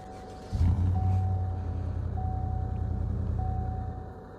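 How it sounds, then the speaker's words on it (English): A GTO car engine in Roblox Greenville starts up and settles into a low, steady idle rumble for several seconds before cutting off, with a faint intermittent high tone beeping in the background. "I also got this one, the GTO. This one has a very interesting idle sound."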